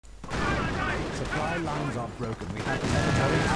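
Gunfire in the video game Company of Heroes, with Commandos gunning down Grenadiers in rattling bursts and scattered shots, heard under a commentator's continuous voice.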